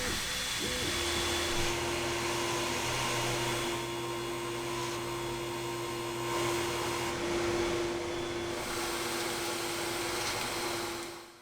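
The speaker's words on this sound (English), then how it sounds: "I measure the length and place it on the laser bed for cutting." A laser cutter works through a strip of soft faux leather, giving a steady, even machine hum and airflow hiss from its exhaust fan that holds a constant level throughout.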